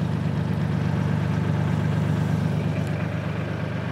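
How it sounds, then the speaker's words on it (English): A farm tractor fitted with a hammer flail mower for cutting tall grass runs on an old German homestead, its engine holding a steady, continuous low idle-like rumble throughout, fairly close and even in loudness, with no voices over it. "You can hear the tractor running in the background."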